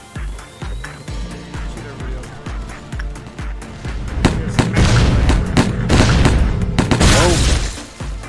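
Gunfire in the video game Lobotomy Corporation: a steady run of sharp shots builds into dense, loud bursts of booms and blasts mid-clip, then thins out toward the end.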